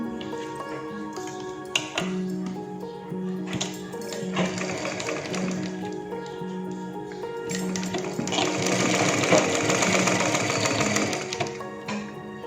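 A sewing machine stitches a sleeve onto a readymade churidar in short runs of rapid, close mechanical tapping, ending in a longer, louder run of stitching.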